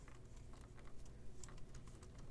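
Fingers tap out a quick, uneven run of light clicks on a computer keyboard, fairly faint and close, with no talking.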